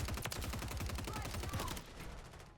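Rapid bursts of video game gunfire crackle in a dense, fast rhythm with a stun grenade in the mix, then fade toward the end, with a voice talking underneath.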